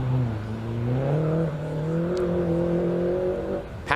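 A Peugeot 106 race car at Mallory Park holds a strong engine note that climbs and steadies as it drives on toward the hairpin, loud and continuous before a brief dip at the end.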